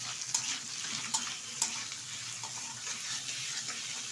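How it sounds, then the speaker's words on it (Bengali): Chicken pieces for chili chicken stirred as they fry in a pan, a continuous bright sizzle with a few sharp scraping strokes of the spatula, close and steady. "এবার কিছুক্ষণ আমি নেড়ে চেড়ে নেব।"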